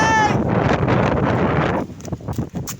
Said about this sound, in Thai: โอ้ ลมแรงจริงครับ